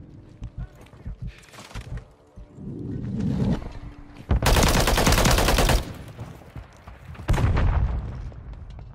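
Gunfire in Call of Duty Modern Warfare 3, with scattered sharp shots early on, then long loud bursts of sustained automatic fire close by, broken by short pauses.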